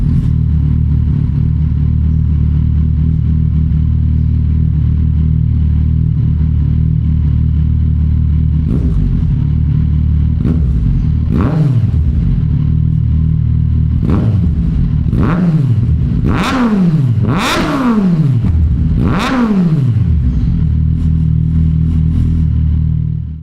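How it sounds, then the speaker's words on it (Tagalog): Kawasaki Z1100 engine with a full-system exhaust idles steadily, then gets blipped into a series of sharp, loud revs that build in pitch and fall back, several quick throttle stabs near the end, no talking. "So yan po ang tunog ng 1100 engine ng Kawasaki."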